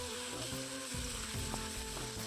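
Chicken meat frying in a pan in a home kitchen, a dense continuous sizzle heard close with a faint low hum beneath it and nobody speaking.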